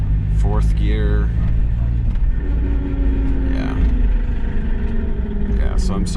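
A Mazda Miata with a suspected differential fault drives in fourth gear. The engine and drivetrain rumble loud and steady throughout, and someone talks over the noise.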